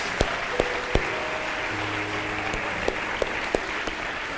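A church congregation applauds during a worship service: a dense, steady wash of many hands clapping fills the whole stretch, with a few sharper, closer claps standing out and a low sustained tone underneath.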